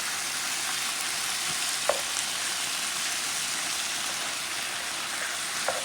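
Firm tofu sizzles and crackles steadily in a hot pan with coconut oil, a dense, even frying hiss with a couple of small pops and stirring clicks.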